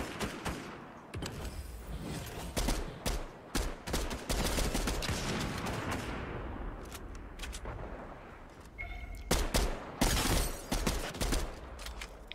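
Gunfire from the Fortnite video game, with rapid volleys of shots and sharp single cracks in uneven bursts, loud and close, and a brief lull before more firing near the end.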